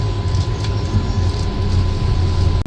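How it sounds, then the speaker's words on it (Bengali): Inside the Vande Bharat Express running between Bakhtiyarpur and Mokama, a steady low rumble with a constant hum, loud and continuous throughout the short stretch. "ট্রেন তো ভক্তিয়ারপুর থেকে ছেড়ে তার পরবর্তী হল্ট মোকামার দিকে যাচ্ছে"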